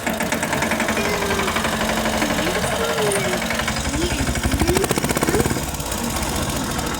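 A Sonalika tractor pulling a loaded trolley drives off, a loud, close, rhythmic knocking diesel chug that holds steady throughout, with a faint voice underneath.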